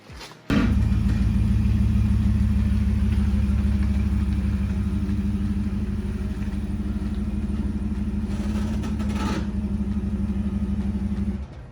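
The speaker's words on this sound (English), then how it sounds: "I'm gonna start your truck, pull ahead, Sure. and then I'll back up" A Ford F150 Raptor pickup's engine cranks and catches, then settles into a loud, steady rumbling idle that holds for several seconds as the truck pulls ahead, with a brief rattling clatter near the end.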